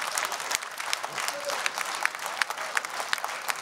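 An audience applauds a singer at a folk music gala concert. The clapping is dense, steady and fairly loud, with a few sharper individual claps standing out from the crowd.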